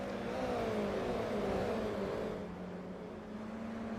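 Damaged Toyota GR86 race car engine in the iRacing video game, a loud continuous droning whine that holds a steady pitch, sags slightly, then settles into a lower steady hum.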